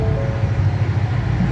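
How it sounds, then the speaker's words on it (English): A car engine with a newly installed aftermarket exhaust gives a brief, loud rumbling rev at close range, a deep steady drone with no talk over it. "I'm gonna do a little quick rev for you guys, see if you can get a decent representation of what it sounds like"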